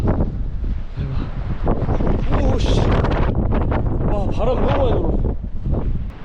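Strong wind buffets the microphone on the coast at Dahab, Egypt, a loud continuous roar throughout with gusty swells, while people exclaim and talk over it.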